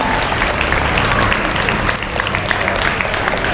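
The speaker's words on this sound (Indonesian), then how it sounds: "beri tepuk tangan" Applause from a school assembly crowd at a morning roll-call gathering, steady dense clapping filling the whole stretch at fairly loud, even level.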